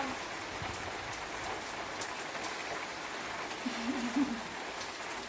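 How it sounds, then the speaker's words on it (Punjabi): Steady rain falling outdoors, a dense, even hiss of drops hitting surfaces throughout, with a brief faint voice-like murmur near the end. "ਮੀਂਹ ਦੇਖੋ"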